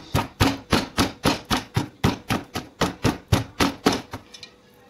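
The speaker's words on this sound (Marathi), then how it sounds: "खलबत्त्यातला रोटा असला त्याच्या साहाय्याने आपल्याला हे गूळ बारीक करून घ्यायचा आहे" Jaggery being crushed with a stone mortar and pestle for sesame jaggery laddus, about fifteen sharp, even thuds in quick steady rhythm, loud and close, stopping just before the end.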